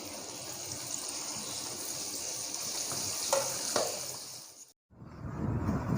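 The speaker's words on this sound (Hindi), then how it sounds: "इसको हमने फ्राई करना है। फ्लेम का ध्यान रखें, फ्लेम बहुत ज़्यादा हाई नहीं रखना है" Masala chicken wings frying in a pan, a constant hissing sizzle with a couple of clattering stirs, cutting out briefly before the sizzle resumes loudly.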